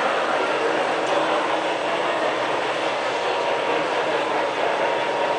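A train rolling along the rails gives a steady, continuous rumble with a faint hiss, holding an even level throughout with no voices over it.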